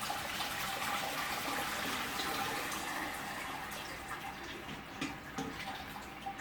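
Wort draining through the grain bed while brewing a Trappist single beer, a steady close trickling and splashing of liquid that gurgles a little unevenly toward the end.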